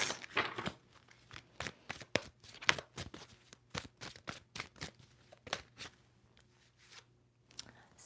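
Crisp riffling and snapping of tarot cards being shuffled, a series of short bursts at an uneven pace, close up in a quiet room.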